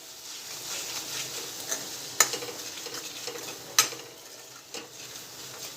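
A spoon stirs a sizzling spice mixture with salt in a pan for dal palak, giving a steady close hiss broken by a few sharp scrapes and clicks against the metal, with no talk.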